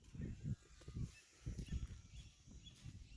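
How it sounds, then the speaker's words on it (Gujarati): Loud, honking peacock calls repeat in quick bursts from somewhere close by, with other birds chattering faintly in the background. "મોરલા બોલાવે છે ધબધબાટી"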